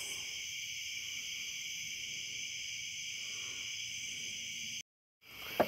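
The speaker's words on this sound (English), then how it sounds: "Just the bugs." Night insects chirp in steady, layered high trills by a lake after dark, constant and moderately faint with no voices.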